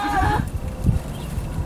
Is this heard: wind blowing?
no